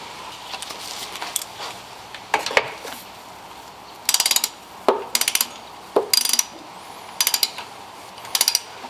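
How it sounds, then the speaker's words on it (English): Ratchet wrench tightening a top alternator bolt on a 1997-2004 Lexus GS300, close, loud clicking bursts in quick repeated strokes with short pauses between pulls. "tighten up the top bolt first completely"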